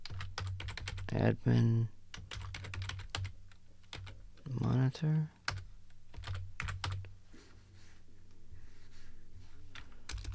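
Clattering keystrokes on a computer keyboard, in quick bursts of clicks with pauses between, close up, while someone talks intermittently over the typing.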